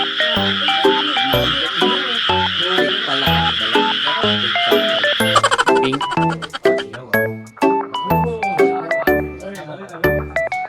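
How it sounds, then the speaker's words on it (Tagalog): Smoky jungle frogs at an aquarium exhibit croak loudly and repeatedly in a rhythmic series of deep, resonant calls, mixed with a steady hiss of ambient noise. "Rinig na rinig mo kung ang mga huni ng palaka."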